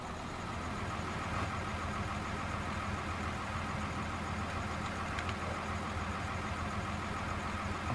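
Truck engine idling steadily in Farming Simulator 2013 on a modded Idaho map, a continuous mid-pitched rumble that holds at an even level throughout with no voices.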